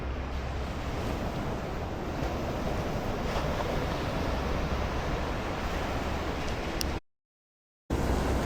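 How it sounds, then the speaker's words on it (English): Constant roar of surf and wind washing over the microphone, steady and loud, cutting to silence near the end before resuming. "The natural sounds of waves crashing."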